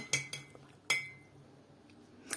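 A spoon clinks against a glass a few times while stirring starch into water, sharp bright taps separated by quiet pauses.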